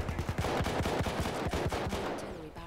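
Rapid automatic gunfire in Battlefield 1, a fast burst of sharp repeated shots at close range, loud and dense, trailing off near the end.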